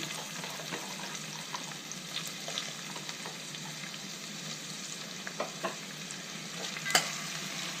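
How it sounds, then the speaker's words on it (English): Chopped onion frying in oil with cardamom pods, cloves, cinnamon sticks and marathi moggu for prawn biryani, a continuous soft sizzle broken by occasional scraping stirs and one sharper clatter near the end, with no voices. "fry this until golden brown"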